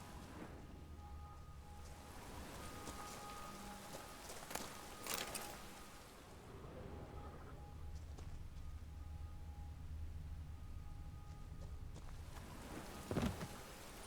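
Rain falling in a town in The Witcher 3: Wild Hunt, a quiet steady patter with low rumbling, occasional hoof clops and a few sharp knocks, no speech.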